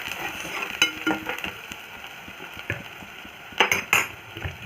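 Coriander powder with garlic, ginger and coconut paste frying in a pan, a low sizzle broken by repeated clinks and scrapes of a spoon against the metal, close and intermittent, with no talking.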